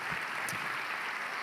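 Steady applause from a church congregation for the men named David, a continuous wash of clapping heard at moderate volume throughout the short moment.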